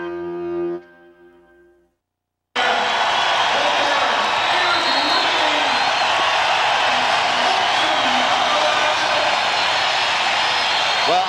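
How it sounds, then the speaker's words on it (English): Arena crowd roaring at an NBA basketball game, a loud, steady wash of cheering that bursts in after a short lull and holds unbroken, with a brief bit of voice before it. "as the crowd is making their noise"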